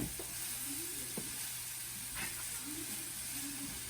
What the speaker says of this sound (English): And then I'm just stirring all of this in.